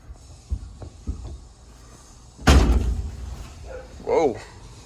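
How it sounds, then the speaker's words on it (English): A door on a truck cab flies open with one sudden loud bang during transmission removal work in a garage, followed by fading rattles and a voice exclaiming. "A door flew open."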